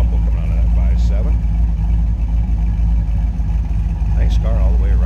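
A 1987 Chevrolet Camaro IROC-Z with a 5.7-litre V8 idles with a loud, steady low rumble close by, its deep throb constant throughout while someone talks over it.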